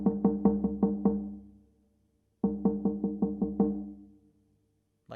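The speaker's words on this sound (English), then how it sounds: "So I'll use the djembe for an example." A djembe drum struck in two sets of five or six sharp, resonant beats in a quick even rhythm, each set ringing out into a short silence, loud and close with no other sound.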